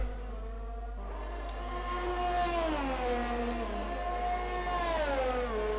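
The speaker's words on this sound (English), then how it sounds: "Cars sound glorious as they fly through the Bahrain sky at night." A Formula 1 car screams around the Bahrain circuit at night in the F1 2020 racing game, its engine pitch climbing and then sliding down as it passes, alone and fairly loud.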